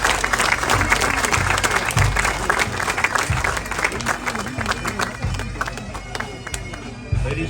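An audience applauds a pipe band at an outdoor memorial parade, with crowd clapping and some heavier thumping underneath, moderately loud and steady.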